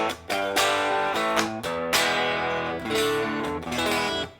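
Electric guitar played through a Tube Screamer block on a Line 6 Helix for light crunch, strummed chords ringing in a loud, rhythmic sequence with sharp attacks and sustained overdriven tails, no talking.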